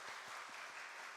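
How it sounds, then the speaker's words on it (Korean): Applause from a church congregation after an ocarina team's performance, a dense, steady clapping from many hands heard at moderate distance, brief and even. "다시 한번 박수하도록 하겠습니다."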